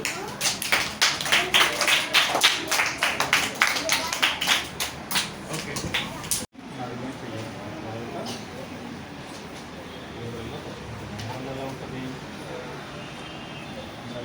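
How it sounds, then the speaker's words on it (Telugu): Children clap for a cartoon during a kids' cartooning session, giving steady, rhythmic, fairly close applause for several seconds that stops abruptly and leaves a murmur of room noise and voices. "క్లాప్స్ కొట్టండి"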